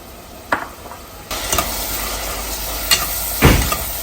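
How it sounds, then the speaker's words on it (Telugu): Tomato frying in a pan for a Rayalaseema-style brinjal curry, a steady close sizzle broken by a few sharp stirring scrapes. "టమోటాను కొద్దిగా వేగనిస్తాం, అంటే సగం అయినా కొద్దిగా వేగాలి టమోటా."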